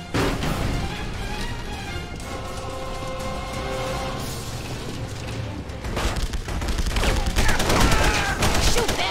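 Dense gunfire in The Punisher video game, with rapid overlapping shots and bursts crackling nonstop, loud and close, and a heavier barrage toward the end over battle noise.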